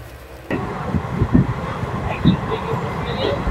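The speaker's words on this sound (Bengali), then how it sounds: "আমাদের ট্রেন বোলপুরে এসে পৌঁছালো" The Kanchanjunga Express pulls into Bolpur station with a low, rumbling roll of wheels and carriage noise, steady after a quiet start, with soft knocks and faint background voices.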